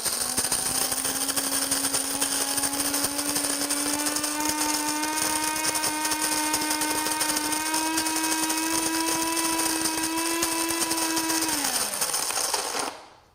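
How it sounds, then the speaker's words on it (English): A Krups burr coffee grinder set to medium grinds beans with a steady, whining motor drone and gritty crunching for about twelve seconds, then winds down to a stop. "Today I'm going to put it on medium and I'm just going to hit start."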